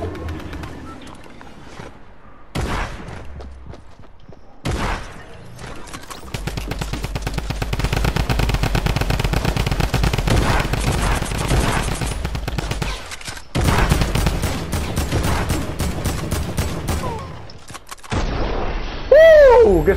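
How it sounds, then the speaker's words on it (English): Fortnite gunfire, with long stretches of dense rapid automatic fire and scattered single shots, loud and close, broken by short pauses and ending in a chirpy game effect. "They're shooting at me."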